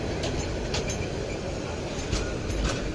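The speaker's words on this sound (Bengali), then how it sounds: "প্ল্যাটফর্মে কিন্তু দাঁড়িয়ে যাচ্ছে ট্রেনটি।" A very long passenger train pulls into a platform at a busy Bangladesh Railway station, giving a loud, steady low rumble of wheels and carriages that continues without a break.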